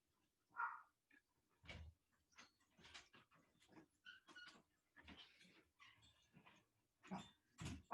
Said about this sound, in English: that's my dog. She wanted to say hello